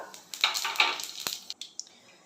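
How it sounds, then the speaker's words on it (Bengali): Five-spice seeds and dried red chilies hitting hot mustard oil for a white potato dish, giving a quick burst of crackling sizzle with small pops and a spoon scraping, fading within about two seconds. "তেল গরম হয়ে রয়েছে, আমি দিয়ে দিচ্ছি এখানে 5 ফোড়ন আর শুকনো লঙ্কা"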